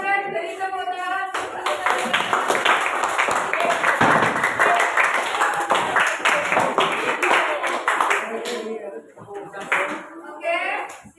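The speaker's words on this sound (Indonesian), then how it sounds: "silakan beri tepuk tangan" Clapping and applause from a classroom group at a teacher training session, a dense sustained burst lasting several seconds that thins out toward the end, with some talk at the start.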